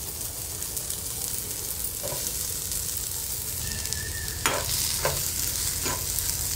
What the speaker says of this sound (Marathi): आधी कांदे भाजून घेणार आहे मी बारीक चिरलेले